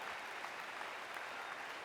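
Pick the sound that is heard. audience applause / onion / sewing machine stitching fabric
audience applause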